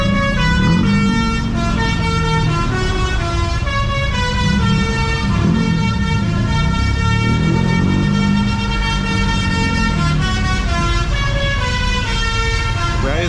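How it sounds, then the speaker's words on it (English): A party bus in Indonesia blares a loud, continuous melodic horn tune with steady stacked tones over rumbling road traffic, close and dominant throughout. "Party bus in Indonesia. You can see and hear it many times, but this is the craziest that I've ever seen and heard."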